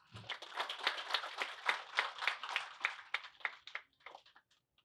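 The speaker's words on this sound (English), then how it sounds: "Let's give ourselves a round of applause." A group of students at a certificate and awards ceremony claps together, a moderate, fairly close patter of hand claps that gradually thins and stops near the end.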